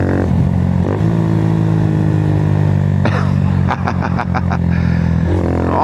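A 2022 Honda Grom motorcycle rides along with a steady, close engine drone and wind noise, the revs shifting midway, and a few sharp clattering taps near the end.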